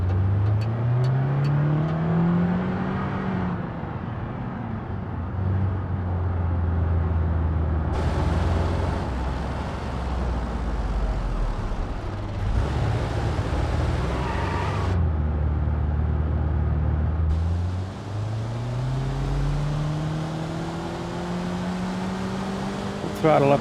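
A worn-out car engine in the BeamNG driving game revs and accelerates uphill, rising and falling pitch in several long throttle pulls, steady and loud throughout, with occasional shifts between pulls.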